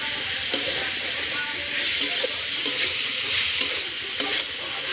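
Food seasoned with salt frying in a pan while being stirred: a continuous close sizzle with intermittent scraping and clinking strokes of the utensil, no talking.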